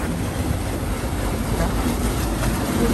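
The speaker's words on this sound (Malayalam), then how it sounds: "അവിടെ ദാ ടില്ലർ അടിക്കുന്നുണ്ട് കേട്ടോ" A power tiller working a paddy field, heard as a continuous, fairly loud engine drone with a rough, wind-like rumble that holds steady throughout.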